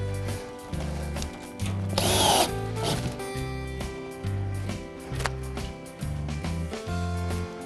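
A power drill drives fasteners into steel log siding, its motor whirring in repeated bursts that rise and drop with each screw. A louder grinding rasp stands out midway, close-up and continuous.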